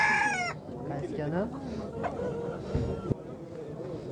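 A rooster crows loudly and close at a Nookat livestock market, one harmonic crow at the start followed by scattered clucks and poultry calls, with people talking around it.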